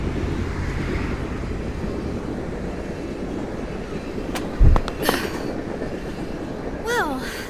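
Subway train rumbling through a station, a loud broad roar with a sharp metallic clank midway and a rising squeal near the end, heard close and continuous.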